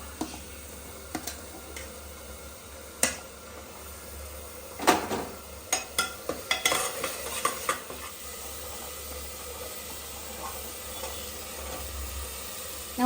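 Tomatoes stirred into a pan with salt and turmeric, a faint sizzle under scattered scraping and clicking of a spoon against the pan, quiet overall with no talk.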